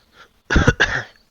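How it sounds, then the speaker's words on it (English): One person coughs twice in quick succession, loud and close, after a faint breath, then silence. "I have a really bad cough coming up"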